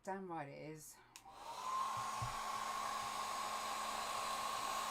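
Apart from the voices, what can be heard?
hair dryer blowing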